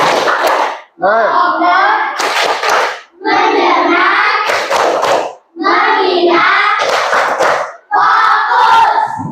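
In a fourth-grade classroom, children clap in short rhythmic bursts of several quick claps, alternating with loud group chanting in a call-and-response clapping game.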